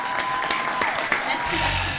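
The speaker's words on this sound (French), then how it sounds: "Taïla, on t'applaudit" A live audience at a comedy show applauds a guest, with scattered sharp claps and a dense wash of hands while a voice talks over it and a tone lingers briefly.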